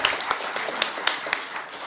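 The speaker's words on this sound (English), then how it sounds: "give Terry a round of applause if you don't mind" Applause at a county commissioners meeting: a small group clapping steadily and fairly quietly in a meeting room, sharp irregular claps for a couple of seconds.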